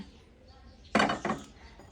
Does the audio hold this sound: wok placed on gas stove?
yes